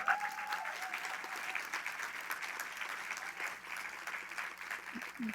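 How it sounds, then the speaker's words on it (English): An audience at a food-systems conference welcome session claps for a group of storytellers, a steady, fairly faint patter of applause, with a brief tone at the start and a little low murmur near the end. "please, round of applause."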